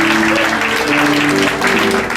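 Comedy show audience at a carnival family show clapping together, a dense, steady wash of applause that stays loud and continuous throughout with a faint tonal hum underneath.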